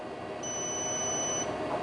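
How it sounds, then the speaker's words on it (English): A Cuisinart large air fryer toaster oven gives a single steady electronic beep lasting about a second as its preheat finishes, clear over a low kitchen hum. "I'm just going to let it preheat till things beep and it reaches 250."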